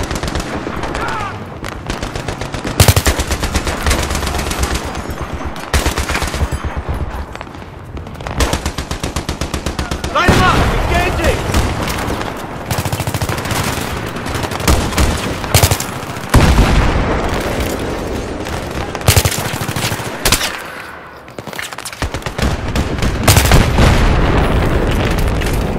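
Sustained automatic gunfire and machine-gun bursts in Battlefield 3 combat, with repeated loud rattling volleys, scattered booms and explosions running throughout, occasional short pauses between bursts, and voices calling out beneath the shooting.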